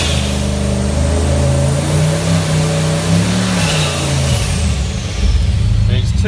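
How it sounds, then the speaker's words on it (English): A car engine revs steadily against a transbrake alone, holding a loud, droning tone that rises and dips slightly before the throttle shifts near the end; a voice talks over the engine. "This is a transbrake on its own."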